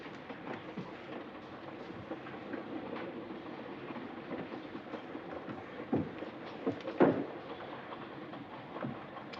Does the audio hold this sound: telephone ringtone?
no